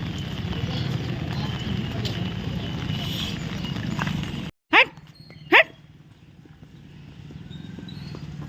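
A dog gives two short sharp barks close by, following a stretch of steady rain-like background noise that cuts off abruptly. Quieter ambient noise follows the barks.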